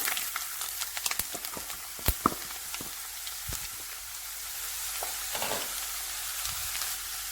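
Chopped ginger sizzles loudly in hot oil with mustard seeds and fenugreek, a steady broad frying hiss broken by sharp crackles and pops, close up with no talking.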